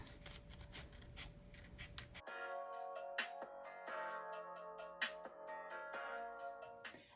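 Scissors trim excess fabric close to the embroidery stitches on a bag tag, producing a run of crisp, repeated snipping cuts, near and fairly loud, after a brief burst of rustling at the start.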